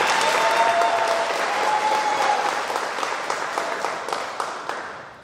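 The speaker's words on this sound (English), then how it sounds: "You notice how the parents clap a little more for this one?" Sustained applause from a large crowd at a senior awards night, steady and full at first, then thinning into scattered individual claps toward the end.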